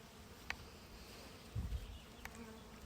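Bees buzz faintly and continuously around a hive outdoors, a soft steady drone with a few brief nearby passes.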